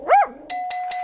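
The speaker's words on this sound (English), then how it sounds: "that bell is making our contestants think someone's at the door" Doorbell ringing in the video game You Don't Know Jack, a quick repeated ding-dong chime after a short dog bark, loud and clear with no talk.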